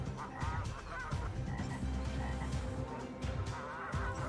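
Frogs croak in a steady, overlapping chorus while geese honk intermittently over them, a dense wetland clamor of animal calls that fills the whole stretch with no voices.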